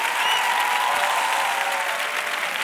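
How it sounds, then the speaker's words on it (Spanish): Audience applause for a flamenco guitarist on a televised singing competition stage, a dense, even wash of clapping from a large crowd filling the short moment. "Un aplauso para la guitarra."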